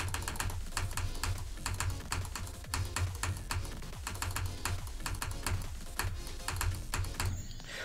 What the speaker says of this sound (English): I need to click a lot faster than that.